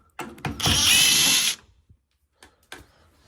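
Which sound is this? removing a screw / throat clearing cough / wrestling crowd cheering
removing a screw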